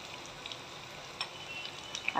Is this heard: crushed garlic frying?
yes